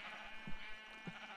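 A sheep in the Minecraft video game bleats twice in short bursts over a steady hum of background game sound, with no talking.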